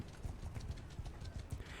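Hooves of a baby horse ridden into battle in a video game clip-clop in a quick, steady rhythm, close and fairly soft, with no voices over them.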